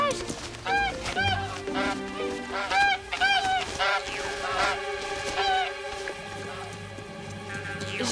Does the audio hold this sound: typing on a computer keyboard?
no